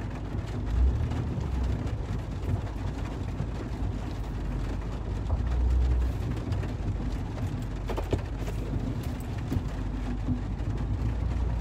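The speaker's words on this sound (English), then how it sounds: "I have to move my car." A car being moved, its low engine rumble and road noise running steadily from start to finish, with swells in loudness and a few faint clunks, and no talking.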